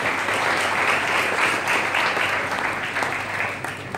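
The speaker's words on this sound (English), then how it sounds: "can you please give a big a round of applause and cheers" Steady, dense applause and cheering from a crowd at a property buyers' appreciation dinner, sustained and loud throughout without pause.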